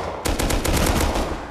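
A rapid automatic gun bursts in the video game Rust, about ten loud close shots in quick succession over roughly a second, with no talking.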